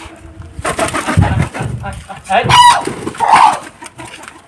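Chickens cluck and squawk nearby in short bursts alongside a heron, with a louder call standing out, while people talk in the background.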